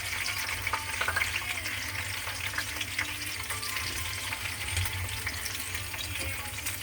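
Garlic sizzles and crackles steadily in hot oil, a dense, close frying hiss that runs unbroken with faint stirring and no voices.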